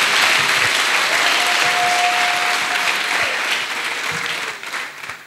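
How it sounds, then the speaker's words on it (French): A church congregation claps loudly and continuously for Jesus, sustained applause filling the hall before it fades out at the end. "Clap offering to Jesus."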